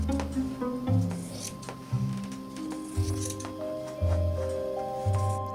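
Scissors cut out a fabric skirt panel for a hand-embroidered pinafore along washable-marker lines, making soft, crisp snips under steady background music.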